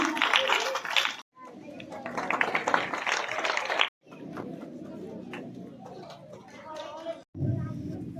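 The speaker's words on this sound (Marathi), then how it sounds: "जोरदार टाळ्या वाजवायच्या सर्वांनी" An audience at a school gathering at Bhagwan Vidyalaya in Balamtakli claps loudly. The applause comes in three dense, sustained bursts separated by brief pauses.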